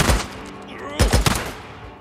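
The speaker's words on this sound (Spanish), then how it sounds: "Habéis varios disparos." Gunshots in the Days Gone video game sound as a few loud, close bangs, one at the start and a quick cluster about a second later, over a low background rumble.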